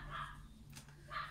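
A small dog barking indoors, two short sharp barks about a second apart over low room noise, no talk.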